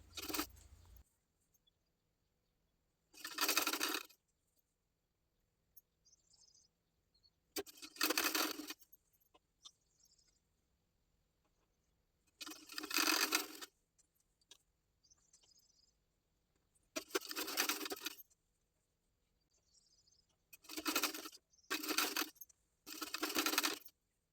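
A sewing machine stitches the neck band of a girl's top in short bursts, with each run of rapid stitching followed by a quiet pause. Seven or eight separate runs come through close and clear.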